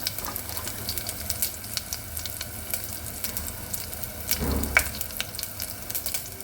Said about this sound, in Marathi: फोडणीमध्ये हे मोहरी जिरे त्यानंतर कढीपत्ता आणि हिरवी मिरची हिंग आपली नेहमीप्रमाणेच फोडणी